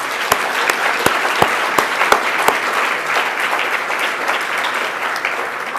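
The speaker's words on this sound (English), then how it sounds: "let's give them all a round of applause" Audience applause at a hospital awards ceremony, a steady wash of many hands clapping with a few sharp nearby claps standing out early, loud and continuous.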